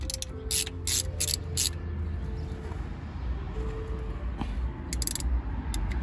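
Bursts of quick ratchet clicks come as a brake bolt is tightened on a 2006 Buick LaCrosse CX front brake job, several close runs separated by short pauses, with a low mechanical hum underneath.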